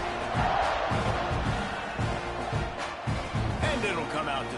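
A football stadium crowd roars in a dense, sustained wash of cheering and shouting, with rhythmic chanting thuds underneath, loud and far-spread, while a commentator talks over it.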